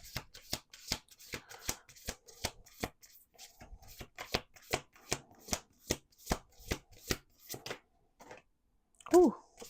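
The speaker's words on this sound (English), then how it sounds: "Let's do one more shuffle here." A deck of cards being shuffled during a card reading, a run of crisp rapid riffling snaps in close succession, near and fairly quiet, pausing briefly before a final louder handling sound.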